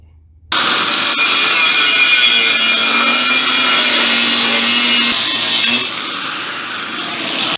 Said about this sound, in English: let me cut me a piece of metal, weld it up here first